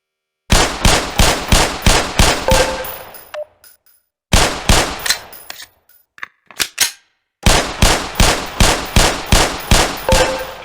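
Pistol gunfire on a shooting range in Black Mesa: three loud, close bursts of rapid, evenly spaced shots, each run of about seven or eight cracks ending abruptly, separated by quiet gaps with faint clicks and a reload.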